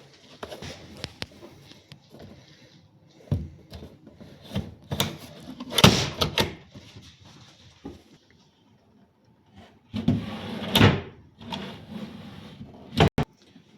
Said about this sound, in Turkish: Kurduğumuz çekmeceyi şu şekilde alıyoruz. Bu mandallar ön tarafta. Buradaki kırmızılara tam oturacak şekilde takıyoruz.